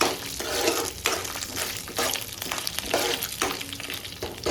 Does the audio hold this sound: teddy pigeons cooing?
no